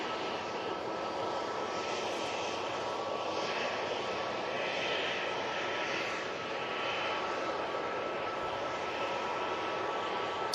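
Embraer jet engines idle near the runway at Manchester Airport, a continuous even whine and rumble at close range, steady and unbroken for the full stretch.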